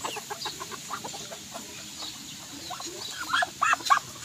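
Bantam chickens cluck in short scattered bursts, with a few louder, sharper calls near the end over a soft background hum.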